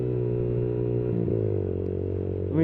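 A Yamaha YBR 125cc motorcycle with a Leo Vince GP Corsa exhaust idling with a steady, droning low engine note that dips briefly and rises again, ending with a slight rev in rush-hour traffic.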